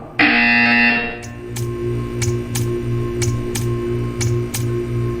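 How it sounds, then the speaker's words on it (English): A loud electronic buzzer sounds for about a second in the Portal 2 video game, followed by a steady, regular mechanical ticking pulse. "You will hear a buzzer."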